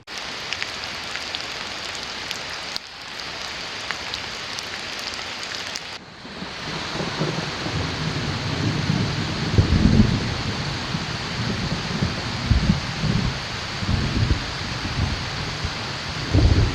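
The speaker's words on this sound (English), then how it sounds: "it's thundering and lightning, downpouring" Heavy downpour during a thunderstorm in the Kettle Moraine North forest in Wisconsin, heard from a backpacking campsite. A steady, dense roar of rain swells louder after a brief lull, with low rumbling beneath it and no voices.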